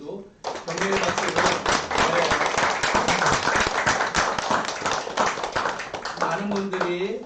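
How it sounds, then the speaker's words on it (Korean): A congregation applauds in a church during a Christmas service, a sustained burst of close, dense clapping that starts abruptly and tapers slightly toward the end, with brief speech at the edges. "우리 서로를 위해서 그래도 격려의 박수를."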